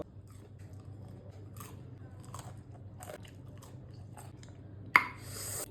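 Crisp crunching bites on fried mushroom pakoda, a steady run of crackly chewing with several sharper crunches and one loud close snap near the end.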